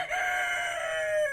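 A rooster crows in one drawn-out, bright, slightly falling call, clear and moderately close with no voices or other sounds alongside.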